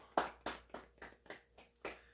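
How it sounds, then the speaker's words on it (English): Soft, polite golf clap: about eight gentle hand claps at a slow, steady rhythm, quiet and close, with no other sound. "That gets a golf clap"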